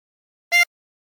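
One brief drawn harmonica note, inhaled through hole 5, a clean reedy tone heard up close with nothing else around it.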